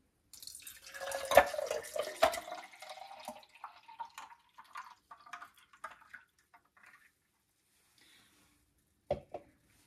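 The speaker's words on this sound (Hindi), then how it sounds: "अब हम ये ड्रिंक इस गिलास में डाल देंगे" Mint margarita poured into a glass with a sugar-and-lemon rim, a close splashing pour for a couple of seconds that trails off into sparse drips, then a single small clink.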